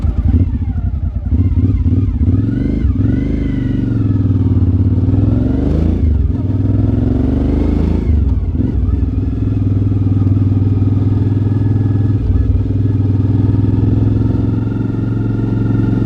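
A motorcycle engine runs steadily throughout, rising and falling in pitch as it accelerates and eases off, loud and close with some rattling clatter, riding through Litene village, Latvia.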